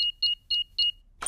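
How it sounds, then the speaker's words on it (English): A cartoon car alarm being switched off gives four short, evenly spaced high electronic beeps, clear and isolated, followed by a brief rustle. "I'll just switch the alarm off."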